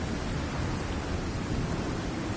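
Heavy storm weather in the survival game Icarus on PS5, a dense unbroken rush of wind and rain at a steady level.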